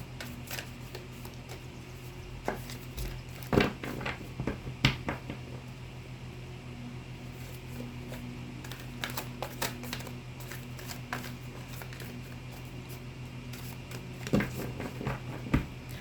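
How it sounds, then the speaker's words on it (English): Close, quiet shuffling of a Dust to Onyx tarot deck, scattered soft card taps and flicks over a faint steady hum, with clusters of sharper clicks near the start and end and no voices. "Couple more shuffles, Virgo."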